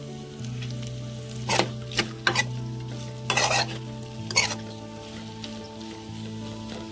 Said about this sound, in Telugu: పచ్చి బఠానీలు కూడా ఇలా సిమ్లో పెట్టి మనం మూత పెట్టాల్సిన అవసరం లేదండి. సిమ్లో పెట్టేసి కలయి తిప్పుకున్నాం.